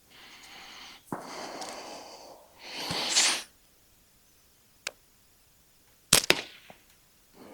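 A slingshot shot at a board, a few scattered sharp snaps and whooshes with quiet gaps between them, including a stretched rustling whoosh and a cluster of quick cracks near the end, close and unaccompanied by speech.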